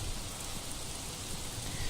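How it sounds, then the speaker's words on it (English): Steady rain falling in the Arma 3 military shooter game, a faint, even hiss of rainfall with no breaks and no voices. "Yeah, it's raining a lot."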